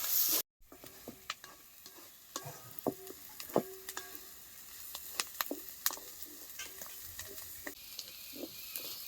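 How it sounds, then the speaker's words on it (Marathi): Curry leaves stirred into a tomato chutney with onion in a pan on a village wood-fired stove, quiet sizzling under scattered close spoon scrapes and clicks, with no talk. "आपण सगळं मिक्स करून घेऊ कढीपत्ता चांगला ह्याच्यामध्ये मिक्स करून घ्यायचा"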